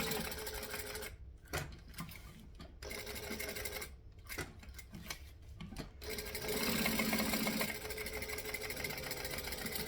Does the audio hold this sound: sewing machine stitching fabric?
yes